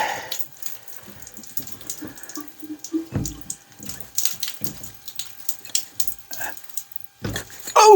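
Water splashes and drips irregularly as a whole-house water filter housing is unscrewed, with scattered splashes, clunks and bursts close by and some brief talking.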